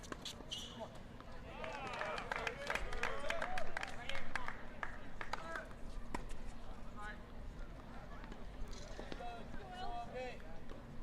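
Crowd at a men's college tennis match between Texas and TCU in a stadium, steady cheering and scattered applause swelling in the middle then settling into a lively murmur, with voices shouting over the noise.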